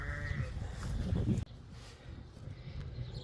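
Wiltshire shedding sheep ewes bleat at tupping time with a white ram, a few close bleats over outdoor farm noise, with a sudden bump partway through.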